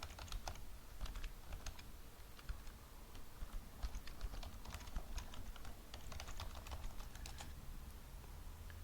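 Someone types a username and password on a computer keyboard, producing soft, steady, close clicking keystrokes with a few brief pauses and no talk.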